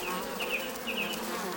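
A forager honeybee buzzes close by in a steady, droning hum that swells slightly as it moves, with no other sounds.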